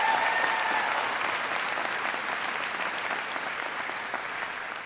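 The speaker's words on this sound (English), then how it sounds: "Give John a big round of applause." A crowd at a political town hall in New Hampshire applauds steadily, a broad wash of clapping that is moderately distant and slowly tapers toward the end.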